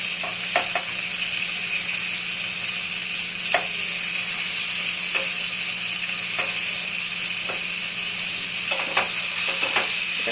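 Ridge gourd and eggplant fry in a pan over a gas flame, giving a steady, even sizzle throughout with occasional small clicks and pops, no voices.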